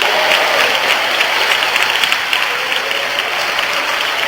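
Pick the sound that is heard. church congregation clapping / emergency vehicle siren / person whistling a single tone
church congregation clapping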